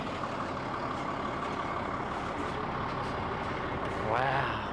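A big tipper dump truck's engine runs at a steady, close idle, a broad continuous rumble with a short rising whine near the end.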